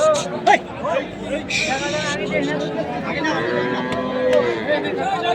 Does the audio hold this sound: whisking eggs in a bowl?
no